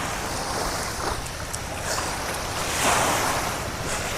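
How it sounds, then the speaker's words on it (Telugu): Sea waves on Rameshwaram beach at sunrise, a broad continuous wash of surf with gentle swells and some wind rumble on the microphone, no voices. "ఆ వాటర్, ఆ వేవ్స్."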